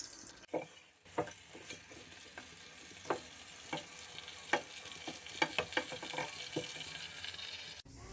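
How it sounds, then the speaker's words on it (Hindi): Chicken frying in oil for a degh-style chicken korma gives a soft, steady sizzle, with scattered clicks and scrapes of stirring close by at low volume. "ऑयल के अंदर हम चिकन को फ्राई कर लेंगे तकरीबन 5 से 6 मिनट।"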